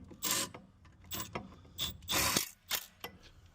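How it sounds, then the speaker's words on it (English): Short bursts of ratcheting, rattling mechanical noise from a tool running bolts down on Tesla Model 3/Y rear brake hardware, several separate fairly quiet pulses with brief pauses between them. "We'll use the impact to run them down, and then I'll final torque them."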